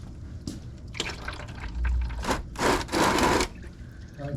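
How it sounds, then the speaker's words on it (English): Engine oil drains out of a GMC Sierra pickup truck, a close, uneven splashing and pouring with a few separate gushes and drips, with no talk over it. "So there goes all the oil."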